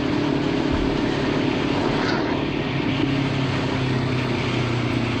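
A motorcycle speeds along a highway bus lane, its engine droning at a steady, loud, even pitch mixed with rushing wind for several seconds.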